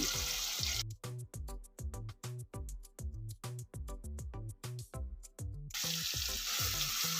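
Paste of onion, green chili and garlic with salt frying in a pan: close hissing sizzle at the start and end, broken in the middle by a run of rhythmic, pulsing knocks, with no talking.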